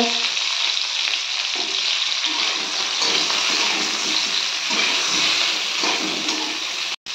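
Cauliflower florets frying in a pan with salt and turmeric, a loud, dense, continuous hiss of hot oil that barely changes across the clip, with no talking.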